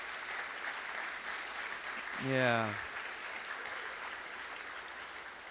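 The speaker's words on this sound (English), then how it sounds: "Can we just give him a round of applause?" A church congregation claps in a sustained round of applause, a dense wash of many hands, while a voice briefly calls out over it partway through.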